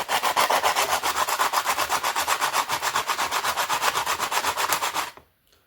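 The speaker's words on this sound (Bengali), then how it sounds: "একটা একটা করে প্রত্যেকটিকে ভালো করে সিরিজ পেপারে ঘষে নিতে হবে।" Sandpaper rubbed rapidly back and forth over the contact points of a single-phase submersible pump starter, a close rhythmic scratching of about five strokes per second that stops abruptly near the end.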